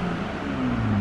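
A BMW M340i Touring's straight-six engine revs in Sport Plus mode, a steady loud drone whose pitch climbs slightly near the end of the brief burst.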